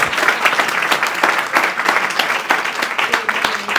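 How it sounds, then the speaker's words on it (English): A studio audience gives a round of applause for a guest invited to the floor, with dense, steady clapping that stays loud and close throughout. "Round of applause for our brother here."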